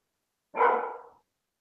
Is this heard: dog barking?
yes